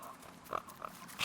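A pig character grunts and oinks in the video game The Last Campfire, two short soft snorts followed by a brighter squeal, faint over a quiet ambient game background.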